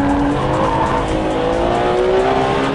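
A Ferrari 599 GTB Fiorano is driven hard on track, its engine a loud, steady roar with a high tire squeal held throughout as it corners.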